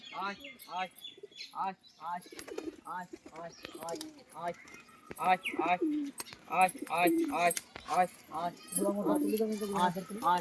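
A flock of pigeons coos and murmurs close by while pecking at chickpeas, with scattered sharp taps and clicks of pecking and fluttering throughout.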